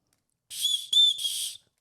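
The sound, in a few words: small survival signal whistle being blown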